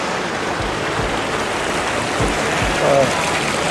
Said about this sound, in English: The waterfalls everywhere. There's a river down there.